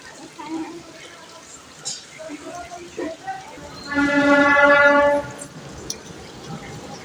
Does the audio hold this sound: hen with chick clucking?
no